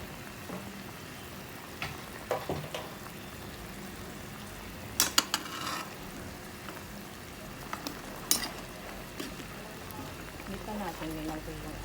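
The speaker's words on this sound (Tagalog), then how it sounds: "ihalo na natin yung kalabasa" Chicken and squash (kalabasa) being stirred in coconut milk, with soft bubbling and scattered spoon scrapes and clinks against the pot, a few sharper knocks standing out, under faint background voice.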